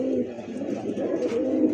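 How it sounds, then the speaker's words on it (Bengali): A male pigeon from a black short-beaked pair coos in a low, rolling, continuous stream, close and fairly loud, with no talking over it. "নরের ডাক দেখেন"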